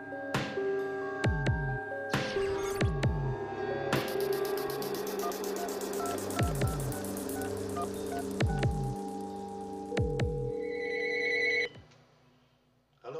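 A telephone rings with an incoming call, its repeated electronic ring tones sounding over a droning, tense musical background before cutting off near the end.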